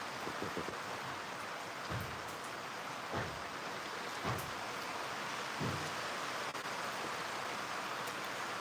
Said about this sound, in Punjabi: ਇਹ ਤਾਂ ਮੀਂਹ ਬਹੁਤ ਪੈ ਰਿਹਾ ਬਾਰੇ ਬਾਰਿਸ਼ ਵੀ ਬਹੁਤ ਹੋ ਰਹੀ ਹੈ